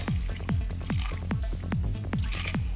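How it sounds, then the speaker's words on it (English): Gin glugging from a bottle into an Irish trash can fishbowl drink, a steady run of rapid gulping pulses close by and fairly loud, with no talk over it. "Hit it with a little bit of gin."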